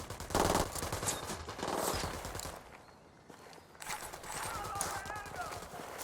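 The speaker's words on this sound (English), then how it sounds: "I'm shooting these fuckers." Gunfire in Ghost Recon Wildlands fills the scene with dense, continuous bursts of automatic rifle shots and battle noise. It stays loud throughout, dipping only briefly mid-way before resuming.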